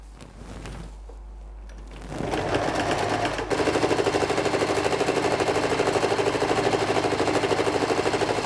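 Sewing machine stitching cloth, starting up after a quiet moment and then running steadily and loudly in a fast, even rhythm.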